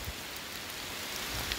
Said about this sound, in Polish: Ale leje.